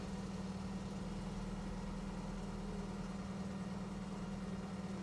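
A car engine idles steadily with a low, even hum throughout, faint and unbroken, with no talking.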